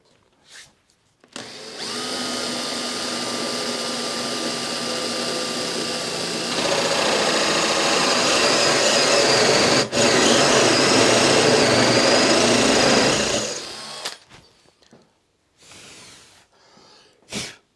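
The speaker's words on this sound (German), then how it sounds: "Also können wir jetzt loslegen mit der Bohrung." A power drill fitted with a circle cutter bores a 60 mm hole through a desk top, whining loudly and steadily for about twelve seconds and shifting pitch partway through as the cutter bites deeper, then winding down.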